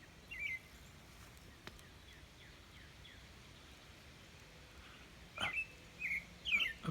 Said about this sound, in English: Up there, I think it's a cardinal.